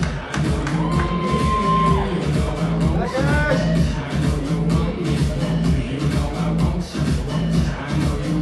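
Audience at a BodyFysiek class gala applauding their stage manager, a dense crowd roar of clapping mixed with shouts and whoops that holds steady and loud throughout.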